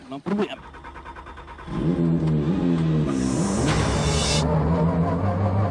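A rally car at Rally Portugal, with a brief impact at the start, then an engine rises into a loud sustained revving roar that carries to the end under a commentator's voice.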